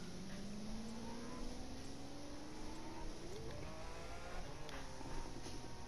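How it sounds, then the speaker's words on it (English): A car engine in The Crew 2 revs faintly with a whining, rising pitch that climbs steadily, then dips and rises again. "Sounds like a turbine engine."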